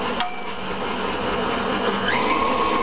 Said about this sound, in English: after each addition you are going to want to beat it all together so it'll be nice and smooth